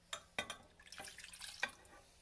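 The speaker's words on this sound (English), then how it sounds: "then we're going to add the water." Water poured into a bowl of waffle batter gives quiet drips and splashes with a few sharper plinks, close by in a home kitchen.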